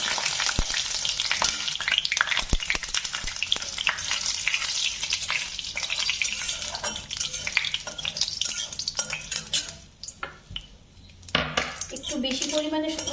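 Whole spices and dried red chillies hit hot oil in a pan for an aloo seddho bhaji, giving a loud, continuous sizzle broken by scraping spatula and clinking pan strokes, with a brief lull near the end.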